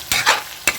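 Food in a hot pan sizzles under two or three quick scraping stirs, close and fairly loud, with no talking.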